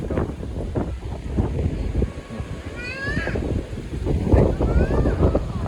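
Gusty wind at a dam with nearby rivers buffets the microphone with low rumbling bursts, while faint voices and a few brief high calls come through in the background.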